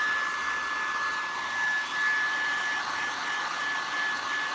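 A heat tool set to its highest setting blows hot air onto a wax-finished vase, making a steady hissing whoosh with a thin whine on top. It stays close and constant throughout.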